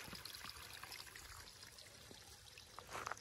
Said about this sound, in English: The water's flowing under.